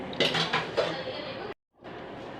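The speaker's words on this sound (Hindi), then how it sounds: "अब हम इसको खोलेंगे कुकर को।" A metal pressure cooker lid is opened after cooking potatoes, giving several sharp close metallic clinks and clanks in quick succession, then a brief silence before faint room sound returns.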